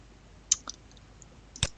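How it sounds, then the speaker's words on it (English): Mouse clicks while navigating pedigree software: two or three crisp, quiet clicks spaced out over a second or so, in a near-silent room. "So clicking on the subject, we just click on pedigree"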